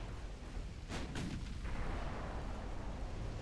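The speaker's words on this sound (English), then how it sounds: "there goes the Belfast, also due to an ammo detonation" A naval ammunition detonation in the warship game Ultimate Admiral: Dreadnoughts, a pair of sharp distant blasts followed by a rolling rumble over constant low battle noise.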